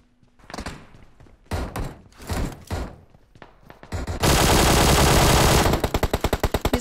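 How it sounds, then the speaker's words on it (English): Gun auto-firing in PUBG Mobile: after a few scattered thumps and shots, a loud sustained burst of automatic fire kicks in, then breaks into rapid evenly spaced individual shots. "My gun just started auto-firing."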